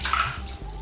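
A brief gush of water runs as a repaired automatic washing machine drains, a short close splashing flow lasting under a second.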